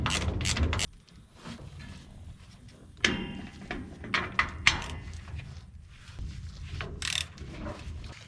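Socket ratchet on a 3/4 inch deep socket loosening the four retaining-flange bolts on a Ford 9 inch differential axle, with short bursts of clicking and metallic knocks between quiet pauses, close by.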